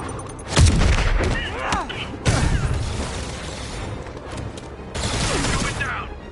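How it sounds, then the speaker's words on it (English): Gunfire and heavy booms from escaped convicts shooting from stolen vehicles in a Spider-Man video game, loud bursts in three waves with mechanical clatter between, and voices talking over the action. "escaped convicts are opening fire from stolen vehicles"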